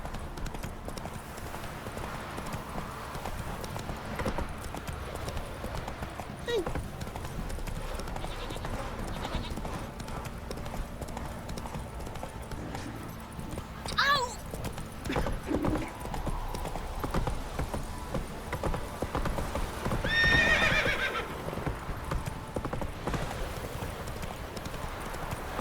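Roach the horse's hooves clip-clop steadily in The Witcher 3, a continuous rhythmic gait under game ambience, with a few brief animal and effect sounds and some distant voices.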